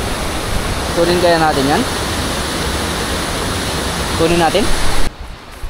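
A river flows with a loud, steady rush of broadband water noise, close by and unbroken, while people talk over it; the rush cuts out abruptly near the end.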